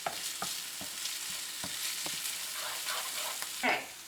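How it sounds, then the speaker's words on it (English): Garlic and ginger grated fine on a microplane go into golden onions frying for Indian kheema, giving a steady close sizzle broken by scattered stirring knocks and a louder scrape near the end. "Add the garlic and the ginger now"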